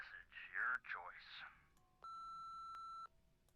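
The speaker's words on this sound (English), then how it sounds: "you can either hang up and call back or wait for the beep and leave us a message" An answering machine in the Nancy Drew video game plays a single clean, sustained electronic beep lasting about a second, right after a recorded voice finishes its greeting.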